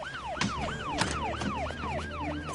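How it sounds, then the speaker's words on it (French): An ambulance siren wails in a repeated rising and falling pattern, several cycles at an even pace, loud and steady over low traffic rumble, with no talking. "C'est une ambulance et elle vient ici."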